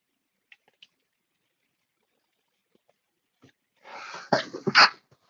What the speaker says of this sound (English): I think I have a sneeze coming.